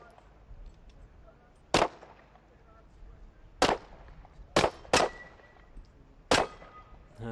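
Pistol shots ring out one at a time at targets in a SWAT competition pistol pen, five sharp cracks spaced irregularly over several seconds, each standing clearly above a low background.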